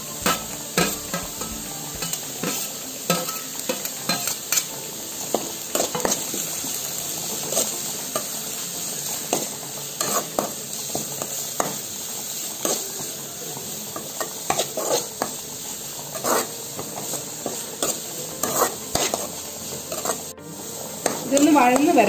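Ginger, green chilli and garlic sauté in a pan, a steady frying sizzle broken by repeated stirring scrapes and clinks of a spoon against the pan, close and continuous with no talk.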